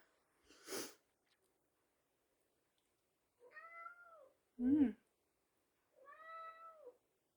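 Cats meow indoors with long quiet gaps in between: a short sharp snort or sneeze first, then two drawn-out meows separated by a brief huffing sound, all close and fairly soft.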